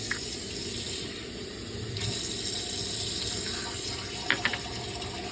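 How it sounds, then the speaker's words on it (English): Tap water runs steadily into a large bowl holding vinegar and a little detergent, a continuous close splashing stream with a few brief clinks near the end. "I'm gonna put some water in it"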